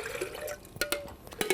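Two standard cups of water (16 fluid ounces) poured from a measuring glass into a home coffee brewer's reservoir, a close, steady liquid stream with a few splashy bursts toward the end.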